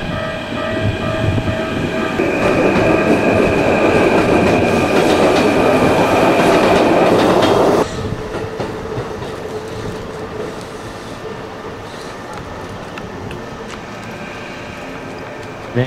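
A Keikyu Line train rumbles loudly past at close range for several seconds at Kanagawa-Shinmachi Station, then the roar cuts off abruptly, leaving quieter rail and station ambience.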